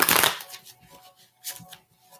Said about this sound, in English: I will shuffle the cards for you,